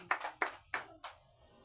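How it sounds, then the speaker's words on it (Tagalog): A church congregation at a Sunday worship service gives four quick, sharp bursts of hand clapping, close and fairly quiet, with no talk over it. "Pumalakpak nga kung may gusto."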